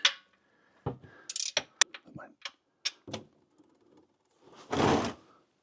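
A 1/2 inch socket ratchet works on a Jeep's oil pan drain plug, giving scattered close clicks and short mechanical rattles with pauses, ending in a longer scraping burst.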